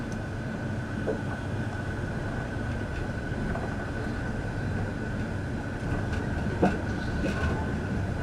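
Aboard the Indian Pacific passenger train, a steady rolling rumble of wheels on rails fills the background with faint intermittent clicks, no voices present.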